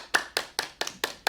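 A group in an online dance-for-wellbeing class for people with Parkinson's claps in six crisp, evenly spaced bursts, fairly soft and close, with no voices between them.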